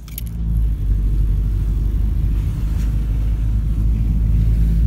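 A car pulls away and drives off from an apartment. A brief jangle of keys comes first, then a steady, close low engine rumble builds and holds as the car moves.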